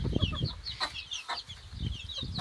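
Chickens in a coop cluck and chatter softly in a busy overlapping mix, with a few sharper calls and some scratching, close by and fairly quiet.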